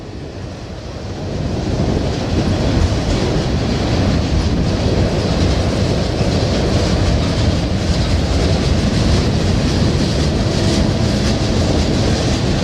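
A BNSF freight train hauling boxcars rolls past close by, a loud continuous rumble and rushing roar with faint clickety-clack, building in the first seconds and holding steady, trackside at Tehachapi with no talk.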